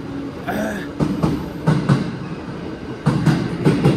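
A Nara-bound express train in Japan passes close by with a loud, rhythmic clickety-clack of wheels over rail joints, in paired beats over a continuous rumble.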